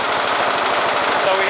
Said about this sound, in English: with a lean mixture, this engine does not run very well